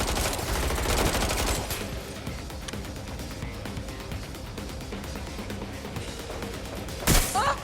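Rapid gunfire crackles in the open-world game Watch Dogs Legion, dense automatic bursts strongest at the start, then thinner shots continuing under background noise, with a sharp loud blast near the end.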